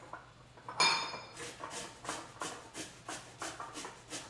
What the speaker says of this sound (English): I'm just using my little handy grater here, and I'm just gonna grate some of this.